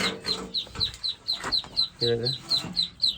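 Chicks and ducklings in a poultry brooder warmed by a 200-watt bulb peep in a steady, rapid series of high chirps close by, with a few lower calls mixed in.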